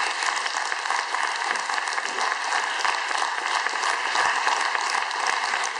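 Sustained audience applause at a short film festival, dense, steady clapping from a large crowd that continues evenly throughout without talk over it.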